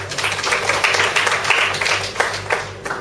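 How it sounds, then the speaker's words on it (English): Steady applause from an audience, a dense patter of many hands clapping at moderate volume throughout, with a faint hum beneath. "Let's give her a round of applause."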